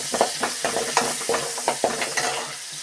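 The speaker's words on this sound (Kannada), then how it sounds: "ಬಾಣಲಿಗೆ ಎಣ್ಣೆ ಹಾಕಿದ್ದೀನಿ. ಈಗ ಆನಿಯನ್ ಹಾಕುವ. ಆನಿಯನ್ ಹಾಕಿದ್ದೀನಿ." Chopped onion frying in hot oil in a pan, with a steady close sizzle and repeated scraping stir strokes over about three seconds, no voices.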